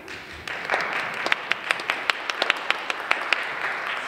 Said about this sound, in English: So I want to clap for that.